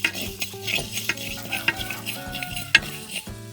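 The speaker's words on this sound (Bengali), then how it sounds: "আমি 5 ফোড়ন ভেজে নেব" Panch phoron five-spice dry-fries and is stirred in a village kitchen pan, giving a continuous close sizzle with repeated scraping strokes and a few sharp clinks of the spoon against metal.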